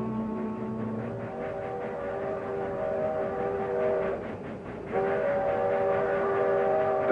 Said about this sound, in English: That's the eastbound freight.